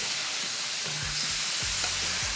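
Beef sizzling loudly as it is stir-fried in a hot pan, with scraping stirs of a utensil against the metal, continuous and close.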